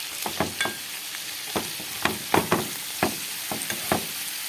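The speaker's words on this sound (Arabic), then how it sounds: "انا حطيت البهارات بتاعتي، الملح والكمون والفلفل والكزبره والثوم، وهقلب كله مع بعض" Garlic, salt, cumin, pepper and coriander are stirred in a hot pan, with a steady sizzle of frying and repeated close scrapes of a spoon.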